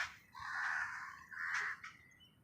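Crows caw loudly and close by while a man hand-feeds them, two long harsh calls followed by a shorter one, with no voices.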